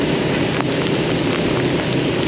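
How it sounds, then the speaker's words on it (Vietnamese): Heavy rain pours steadily on a road in Saigon, a dense, loud hiss of drops drumming on surfaces with no break and no voices. "Ồ, mưa lớn đó nha bà con."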